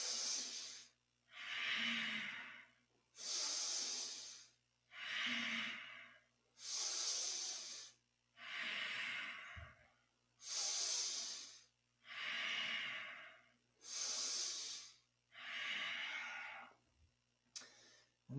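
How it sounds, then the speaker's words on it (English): Rhythmic yoga breathing during a kundalini exercise, about ten strong, even breath cycles heard up close, each a loud breathy rush separated by brief pauses, with no speech. "So inhale up, exhale down."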